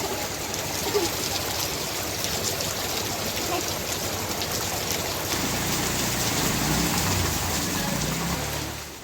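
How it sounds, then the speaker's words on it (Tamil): A heavy downpour over suburban areas such as Sembakkam and Mudichur makes a continuous broad rushing hiss with trickling water, steady and enveloping for about nine seconds. "செம்பாக்கம், முடிச்சூர், அஸ்தினாபுரம், நன்மங்கலம் உள்ளிட்ட பகுதிகளிலும் பலத்த மழை வெளுத்து வாங்கியது."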